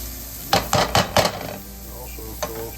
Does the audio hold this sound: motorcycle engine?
no